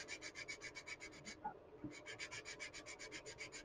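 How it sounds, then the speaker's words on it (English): Hand sanding a build piece in steady back-and-forth strokes, a rhythmic rasping rub that pauses briefly midway with a small knock, then resumes, close and quiet. "And now you can sand more in one spot"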